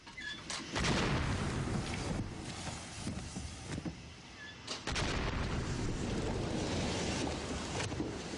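A steam engine's boiler, rated for about 10 bar, bursts inside a shed with a sudden loud blast, and a roaring, hissing rush of escaping steam and boiling water continues after it, with a second surge midway.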